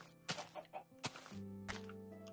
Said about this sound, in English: Damn, chickens.